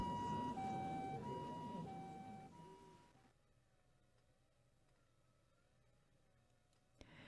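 An ambulance siren in Japan wails in alternating tones over road rumble, then cuts off, leaving quiet traffic noise and a sharp click.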